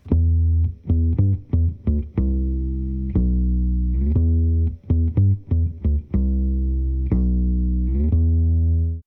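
Electric guitar through a Boss Super Octave pedal, with a thick, doubled low octave under each note, played as repeated picked notes and short riffs, loud and close with no talking.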